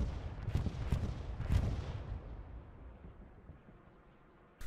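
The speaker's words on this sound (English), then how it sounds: "we got a bombing run in here by HL Tango going right through town center" Bombing run in a multiplayer war video game tournament match, rolling through a town center: a few deep booming explosions close together early on, then a fading rumble that trails off into near quiet.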